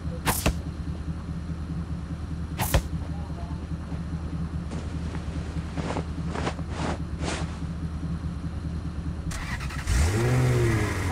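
A car engine drones steadily while driving in the mobile game Rules of Survival, a low continuous hum broken by a few sharp clicks and short bursts, then swelling louder near the end.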